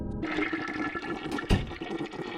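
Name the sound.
toilet flushing in animated film Killer Bean Forever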